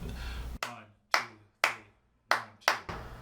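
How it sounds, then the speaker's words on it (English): Six sharp hand claps tap out a clave-style pattern of three then two, each crisp and close with a short ringing decay in a quiet room, with no talking. "I want you to clap along with me and clap the rhythm"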